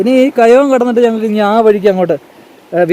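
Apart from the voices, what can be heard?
None of the usual background noises is heard.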